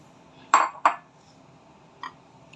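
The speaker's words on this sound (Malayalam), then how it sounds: "ആദ്യം ചേന ഇട്ട് കൊടുക്കുന്നു" Chunks of elephant yam drop into a metal cooking pot with two sharp clanks close together, then a softer clink a moment later, no voices.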